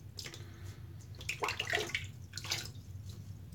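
Water splashes and trickles into a shaving basin in short bursts, faint and close, with brief drips between the pours.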